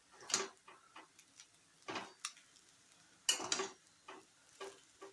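Vegetable chowmein with garam masala, chilli powder and salt tossed in a pan, heard as light intermittent clinks and scrapes of a spoon against metal, quiet and irregular.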